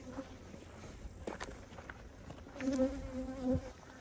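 Honeybees hum around an opened hive during a split and brood check, a steady low buzz close by, swelling briefly as bees fly near, with light handling noises and shuffling.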